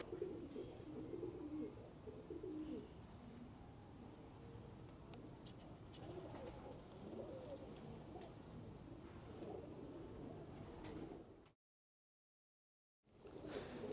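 Pigeons coo softly amid a steady insect chirr and outdoor ambience, a dense low murmur of calls running continuously before a brief silent gap near the end.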